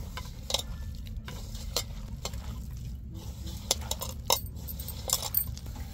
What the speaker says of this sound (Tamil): இதை நல்லா அப்படியே ராலோட மிக்ஸ் பண்ணி விடுவோம்